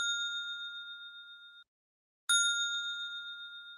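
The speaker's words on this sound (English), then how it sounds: "Did that bell come through?" A bell chime played back on a computer rings out clear and bright, fades, then after a brief silence a second identical ding sounds and rings on.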